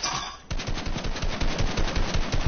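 Rapid bursts of video game gunfire during a rumble match, loud and close, with a quick, steady stream of shots running after a brief quieter lead-in.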